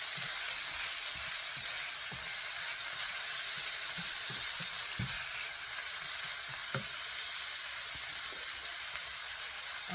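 Onions fry in a pan for fried rice with a steady close sizzle, and scattered sharp pops and crackles break through the hiss at irregular moments.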